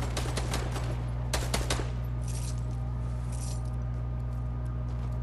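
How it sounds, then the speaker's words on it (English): Gunfire in an online shooter game: a burst of rapid automatic shots early on, then a few more scattered cracks over a constant electronic hum. "Somebody over here shooting too"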